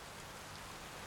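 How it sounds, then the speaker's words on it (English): Steady rain falls in the video game Satisfactory, a dense, even hiss of drops spread across the whole range with no pauses, fairly close and consistent throughout, with no voices over it. "Rain."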